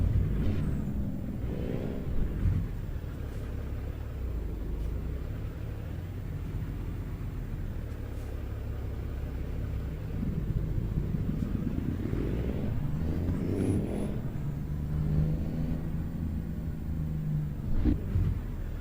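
Truck engine in American Truck Simulator pulling away from a stop, a steady low rumble that swells as it revs, loud and close with no talking over it.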